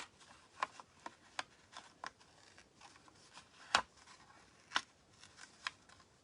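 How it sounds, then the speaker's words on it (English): Paper being torn by hand for winter owl cards, a series of short crisp rips and clicks at irregular intervals, a few sharper and louder than the rest, no talking. "You can always come back again if you haven't torn off enough"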